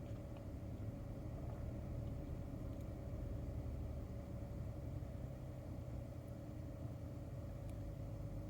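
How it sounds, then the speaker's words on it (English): A car engine idles steadily during an XTool D7 scan tool's whole-vehicle dynamic test, producing a constant low rumble with an even drone that stays unchanged from start to finish and has no voices over it. "So it's returning the vehicle back to idle"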